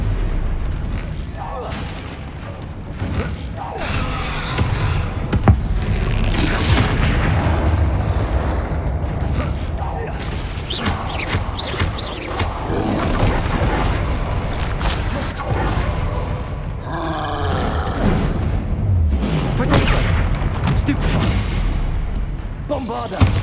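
Spell blasts and explosions from the Hogwarts Legacy video game, a dense, continuous barrage of booms, thuds and magical bursts with hardly a pause throughout.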